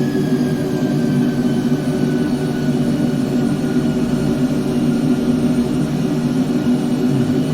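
Jet aircraft engines under throttle in a flight simulator game: a steady, loud, continuous roar and whine that holds without a break, with no talking.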